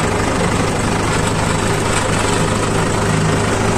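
A Mahindra 575 DI tractor engine idling: a loud, steady, low diesel throb running continuously and close, with no talk over it.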